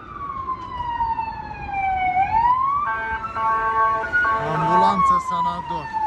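Emergency sirens, one from an ambulance, sound nearby and loud, one sweeping down then up, joined by a second overlapping siren over street noise in a capital city filled with steam and smoke.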